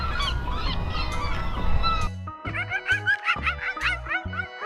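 Seagulls call loudly and close in a run of harsh, laughing squawks and honks that repeat in a quick, uneven rhythm, with a noisy wash of surf or wind early on.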